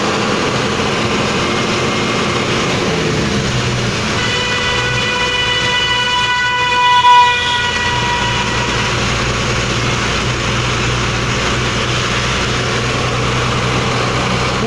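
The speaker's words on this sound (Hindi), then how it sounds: "यहीं से भाई रेलवे स्टेशन निकल जाता है सासाराम के लिए" A train rumbles and idles at Ara railway station in Bihar, India, as a loud steady mechanical drone. Midway a long sustained train horn rises over it and then fades back into the engine noise.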